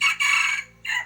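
A rooster crows loud and close, one long harmonic call broken by a short gap, then a second burst starting toward the end.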